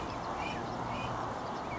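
Ducks quack faintly now and then over a steady outdoor background on a walk from Sandy to Biggleswade.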